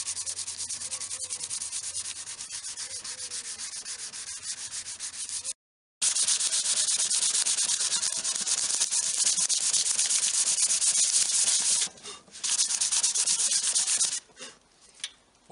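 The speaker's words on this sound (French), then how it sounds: "Pour enlever la vieille colle qu'il y avait sur l'autocollant stickers, diluant cellulosique, ça dissout tout." Steady broadband rubbing of a rag scrubbing old sticker glue off a 103 RCX moped part with cellulose thinner, continuous strokes with a brief pause near six seconds and short breaks toward the end.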